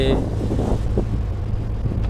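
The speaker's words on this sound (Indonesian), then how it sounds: "agak lumayan keras juga untuk hempasan angin ini" Strong wind on the open Java Sea buffets the microphone in a constant low rumble, with a voice speaking briefly at the start.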